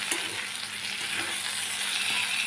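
Finely chopped fresh coriander stirred into vegetables frying in a pan, a steady close sizzle with soft stirring scrapes throughout the short stretch and no voices.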